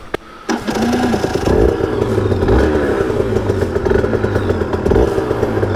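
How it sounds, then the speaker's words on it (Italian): An Aprilia RS 125 two-stroke motorcycle, freshly carbureted, is kicked into life after a short silence, then idles and revs loudly and close by with a steady buzzing engine note and some mechanical clatter throughout. "adesso faremo la mia prima accensione da moto carburata."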